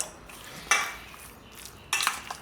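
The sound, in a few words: mixing baking soda into chopped pork ribs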